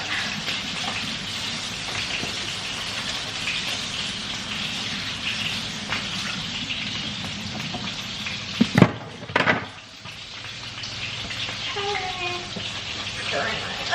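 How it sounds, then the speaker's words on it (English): Onions stirred in a frying pan give a steady, close sizzle and soft spatula scraping, with a brief clatter near the middle and a voice talking over it. "Stirring my onions."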